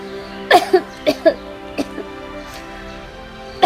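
A person coughs in a few sharp, close bursts, spaced out over a quiet indoor room, with a short throat-clearing sound near the end.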